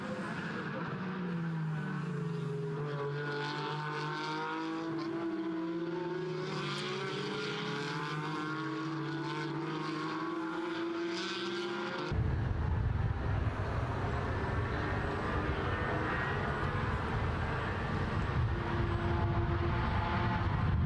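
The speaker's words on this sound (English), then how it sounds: "these exhaust notes here at this circuit, absolutely phenomenal to listen to every single time" Porsche race cars at the Misano circuit in a Porsche Sports Cup Suisse race: engine notes rise and fall in pitch as cars pass, then a louder, rougher exhaust roar takes over midway, continuing steadily to the end.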